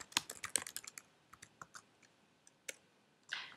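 Keys on a computer keyboard being typed to enter a command, giving quiet, close, irregular clicks in quick bursts with short pauses between them.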